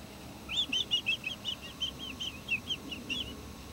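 Small birds nesting in house gutters chirp in a quick repeated series of high, sharp notes, fairly faint and steady over a low outdoor background hum, with no voices.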